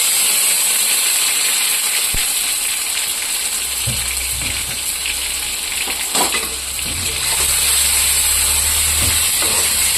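Chopped tomato goes into a hot pan with bay leaves and five-spice, filling the air with a loud, steady sizzle and crackle, with a few scraping stirs and clinks partway through.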